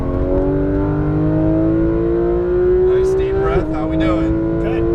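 A Porsche 911 GT3 RS engine on a racing-school track pulls at full power, its close, loud note climbing steadily in pitch before a quick gear change drops it and it climbs again.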